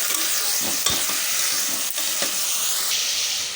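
Chopped vegetables fry with tempering in a pan, meant for a broken wheat dish, a steady close sizzle under clinking, scraping stir strokes, with no talking.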